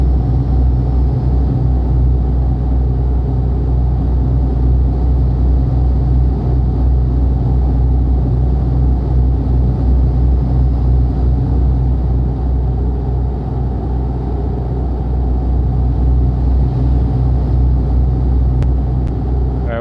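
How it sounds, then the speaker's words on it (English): A truck engine drones from just behind the cab in Euro Truck Simulator 2, a loud, steady low rumble that holds unchanged throughout with no other sounds. "The problem is, the engine is right behind us, so it's like trying to hear anything gets a lot harder."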